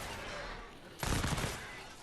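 An assault rifle in Fortnite Save the World fires a short, fairly quiet burst midway, following a subdued stretch of background ambience.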